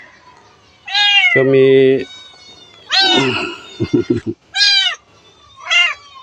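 A cat meows several times, loud and close, with drawn-out plaintive cries separated by short pauses and a brief spoken word between them.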